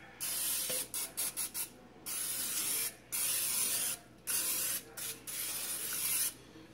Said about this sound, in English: So spray all up on the side, in the middle, and then around the side.